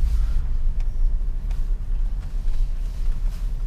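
BMW 745i E65 cruising on an open road with its exhaust cut-off valve closed, giving a steady, subdued low engine rumble with no talk over it.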